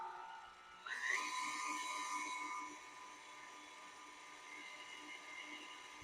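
Electric stand mixer whirring as it blends wet ingredients for maple brown sugar cookies, starting abruptly after a quiet moment with a steady high motor whine that eases to a lower continuous hum.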